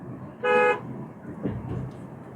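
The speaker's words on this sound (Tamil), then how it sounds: "ஒரு தடவை ஹார்ன் அடிச்சிருங்க" One short, loud car horn honk, followed by muffled traffic rumble and faint background noise.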